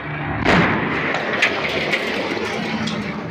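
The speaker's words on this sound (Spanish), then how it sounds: "pero sintió el estallido." A sharp explosion bursts inside an apartment building, a loud sudden blast followed by rumbling debris and a few cracking bangs as the noise settles.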